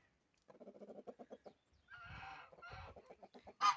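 Chickens and roosters of mixed farmyard breeds cluck in quick bursts, with a louder honking call near the end, fairly close and alone.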